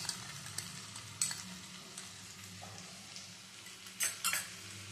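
A ground spice paste is fried on low heat with drumsticks in a pan, giving a soft steady sizzle. Close stirring scrapes and light clinks sound over it, with a couple of sharper scrapes near the end.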